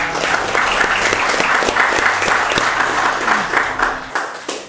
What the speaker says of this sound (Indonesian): kita beri tepuk tangan dulu buat Pangdam